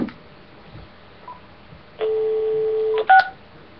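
A telephone is dialed to place a call: a steady dial tone holds for about a second, then two quick touch-tone keypad beeps follow, clear and close against a quiet background.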